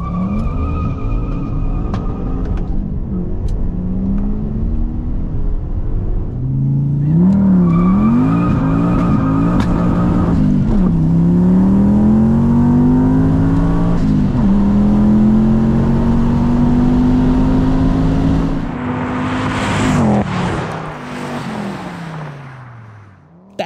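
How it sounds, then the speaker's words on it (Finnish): An old turbocharged Fiat coupe launches hard in a drag race against a four-wheel-drive BMW 740Le, its engine howling up through rising gears while the tyres smoke and squeal. It is loud and close, with sharp gear changes and a fading finish. "vanha Fiatti lähtee näyttävästi klemmit sauhuten ja ulvoten liikenteeseen"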